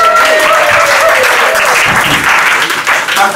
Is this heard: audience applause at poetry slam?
yes